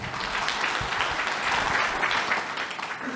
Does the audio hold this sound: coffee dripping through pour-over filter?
no